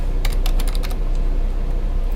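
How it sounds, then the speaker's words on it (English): Quick burst of computer keyboard keystrokes entering a size value into drawing software, ending with a key press for enter, close and clear over a steady low hum, no voices. "And I type in that size and hit enter."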